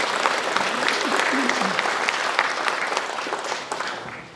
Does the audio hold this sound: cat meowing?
no